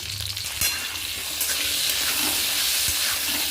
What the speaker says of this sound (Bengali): এবার সজনে ডাঁটাগুলো দিয়ে দিলাম।